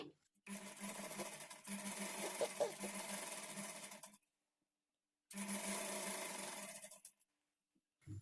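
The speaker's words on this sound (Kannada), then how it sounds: "ಈಗ ನಾನು ಸ್ಟಿಚ್ ಮಾಡಿ ತೋರಿಸ್ತೀನಿ ನಿಮಗೆ" Sewing machine stitching piping onto a blouse edge runs in a steady, fairly close whir for a few seconds, stops, then runs again in a second stretch before stopping.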